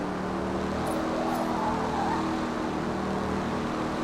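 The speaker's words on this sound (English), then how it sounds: "the roar of this, the sound of this little bitty car and its speed" A small car engine in a video game holds a steady, quiet, low growl at constant speed, an even unbroken drone with no voices.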